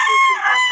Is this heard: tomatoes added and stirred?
no